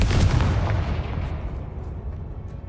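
A Confringo fire spell blasts in the Hogwarts Legacy video game, a loud booming explosion at the start that rumbles and fades away over the next couple of seconds.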